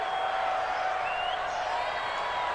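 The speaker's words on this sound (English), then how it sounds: "the crowd getting into it" Crowd noise in the Madden 20 football video game, a steady roaring stadium wash that builds ahead of a big third down, continuous and fairly loud with a faint voice over it.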